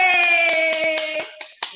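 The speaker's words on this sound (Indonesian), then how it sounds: "Oke, tepuk tangan" Children clapping their hands in a quick, steady rhythm in a classroom, the claps partly masked by a loud sustained cheer of young voices.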